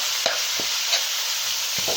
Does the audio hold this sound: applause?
no